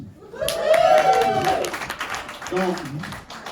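A comedy-club crowd in Kenai claps for a stand-up comedian, with a loud, sustained burst of applause mixed with cheering voices and laughter, then a second, smaller swell near the end.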